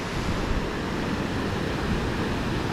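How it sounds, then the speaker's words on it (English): Heavy water rushing over Punchbowl Falls after rain, a loud, constant broadband roar with no breaks or voices. "a lot of water streaming through there"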